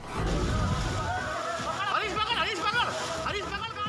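Floodwater sloshing and splashing through the flooded market streets of Bayana town, Bharatpur district, Rajasthan, after heavy rain, with steady crowd chatter and voices throughout.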